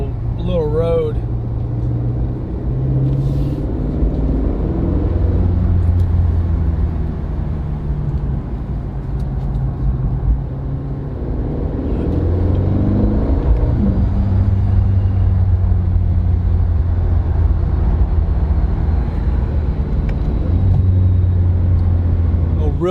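An Aston Martin DB12 drives fast on a private road, its engine a steady close rumble that swells and eases with throttle while someone talks throughout.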